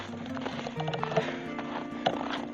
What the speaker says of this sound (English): Now I'm going to go and let my horses out.